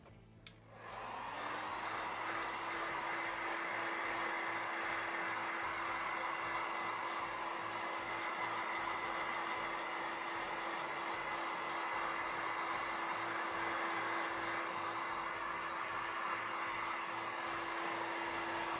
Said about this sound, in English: with the heat gun.